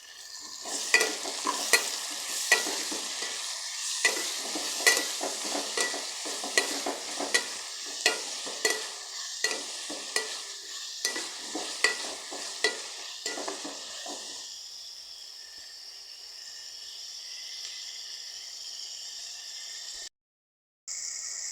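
Onion and tomato sautéing in a pan, with a bitter gourd curry under way, make a steady sizzle punctuated by rhythmic spatula scrapes and clinks for about fourteen seconds, then a quieter hiss that fades out alone.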